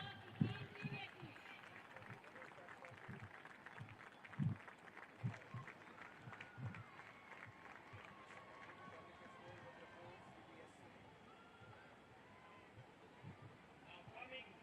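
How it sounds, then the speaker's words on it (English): At a Subroto Cup football final prize ceremony in Ambedkar Stadium, Delhi, a crowd applauds runners-up team CBSEWSO. The steady clapping is faint and distant, with a few sharper claps near the start, and a voice talks over it. "With a huge round of applause to Team Cbsewso."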